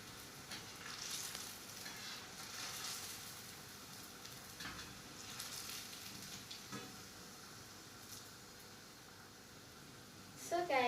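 Potatoes for viazi karai sizzle steadily in hot oil, a constant hissing fry with occasional stirring scrapes and a louder spatter at the end, while a voice talks faintly in the background.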